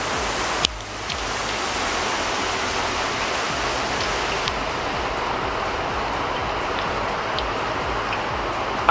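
Nigerian chin chin dough frying in plenty of vegetable oil, a loud, continuous close-up hiss and crackle that holds steady throughout, with a brief clunk near the start.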